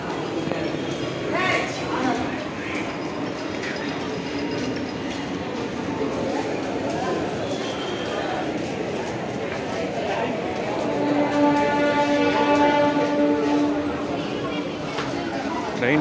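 A Chennai local train rumbles into a busy station platform, a steady mechanical roar under crowd murmur, with a sustained tonal whine or squeal rising near the end.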